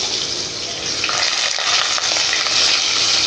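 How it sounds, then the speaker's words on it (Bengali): Cut potatoes sizzle in hot oil in a wok, a loud, steady, dense frying hiss that runs throughout with faint stirring scrapes and no talk. "তেল গরম হয়ে গেছে, এবার কেটে রাখা আলুগুলো দিয়ে দেব।"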